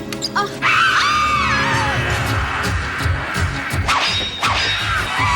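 A cartoon princess in Felix the Cat: The Movie lets out a loud, high, sustained scream, mixed with sharp whacks, crashes and swishing effects, followed by further cries.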